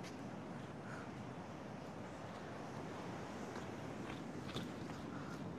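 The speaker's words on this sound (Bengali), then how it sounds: "ঢেউগুলো দেখো, জলের কি গর্জন, প্রচন্ড উঁচু উঁচু ঢেউ" High sea waves roar steadily on the red-sand shore of Gopalpur beach, a dense, continuous wash of surf close by with wind buffeting the microphone throughout.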